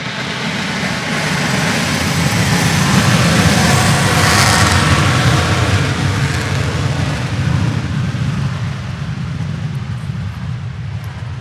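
Birddog warbird aircraft flies over at a warbirds review event, its piston engine a loud, steady low drone that swells to a peak and then slowly fades, with no voices over it.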